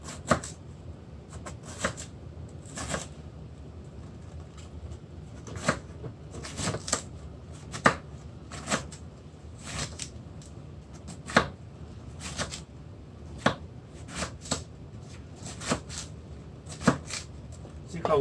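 A knife chops cabbage on a small cutting board for sauerkraut, sharp irregular knocks repeating every second or so, close and clear, with a person talking in between.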